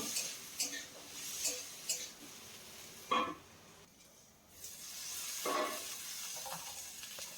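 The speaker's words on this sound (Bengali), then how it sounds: "এতে খুব তাড়াতাড়ি করে ফুলকপি আলু ভাজা হয়ে যাবে" Cauliflower and potatoes frying in a pan for a vegetarian dish, with a soft steady sizzle and a few brief stirring scrapes and clinks of utensil against the pan.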